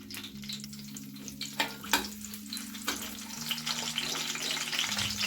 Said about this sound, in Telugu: నూనె పోసుకుని మనం ముందుగా చీల్చుకున్న పచ్చిమిరపకాయలు వేసుకుందాం.